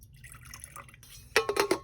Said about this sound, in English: let me just pour a little bit of my water in here